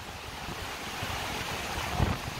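Steady, roaring wind buffets the microphone over a broad wash of surf at a beach in Tulum, Mexico, continuous and loud with a brief gust near the end.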